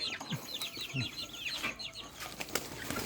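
Young chickens released from a backyard coop in the morning, with a few soft flutters of wings among busy clucking and chirping from the flock, fairly close and steady throughout.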